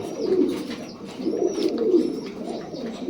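Pigeons coo in low, throaty murmurs that rise and fall continuously, several birds overlapping close by, with a faint higher chirp now and then.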